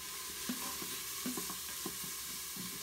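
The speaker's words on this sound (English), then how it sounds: "we're going to just let this saute for 2 or 3 minutes" Oil in an Instant Pot on the saute setting gives a quiet, steady sizzle, broken by a few soft scraping stirs from a utensil.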